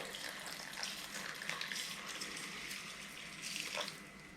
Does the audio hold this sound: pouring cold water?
yes